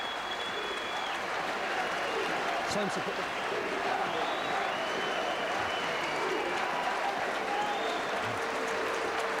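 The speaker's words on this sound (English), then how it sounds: "Rovers crowd going absolutely balmy." Rugby league crowd at a Hull KR home match roaring and cheering after a try, a loud sustained wash of noise with a commentator talking over it.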